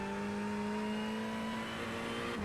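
A Ferrari 488 GT3 Evo race car in the iRacing game accelerates hard at Summit Point, its engine a steady, loud, high-pitched drone that climbs gradually with no talking over it.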